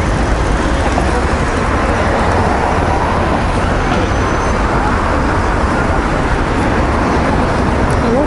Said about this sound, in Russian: Здесь всегда очень много машин именно по этой улице.